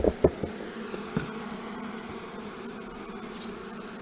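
Honeybee colony inside an opened hive during a queen change, a faint steady hum with a few brief louder bursts of buzzing and bees flying close by.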